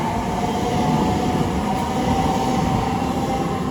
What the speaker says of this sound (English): off goes the 12:30 London Northwestern Railway service to London Euston